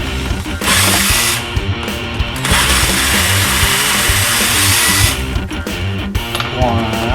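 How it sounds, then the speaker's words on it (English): A power tool whirs steadily up close as it backs screws out of a leather backpack, the motor pitch dipping and shifting, with a voice speaking over it. "So we take these screws out."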